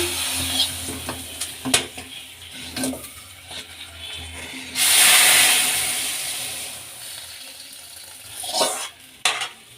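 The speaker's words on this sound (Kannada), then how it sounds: "ಕೊಬ್ಬರಿ ರಸಮ್ಗೆ ಒಗ್ಗರಣೆ ಕೊಡ್ತೀನಿ" Soft stirring and pan clinks, then a sudden loud sizzling burst as hot tempering hits the coconut rasam, fading back to light clatter.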